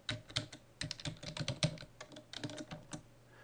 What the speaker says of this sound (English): Now retype the password.